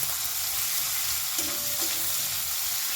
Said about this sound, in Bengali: এখন এর মধ্যে আমি দিয়ে দেব কুচনো পেঁয়াজ পেঁয়াজটা কিন্তু সুন্দর করে ভাজতে হবে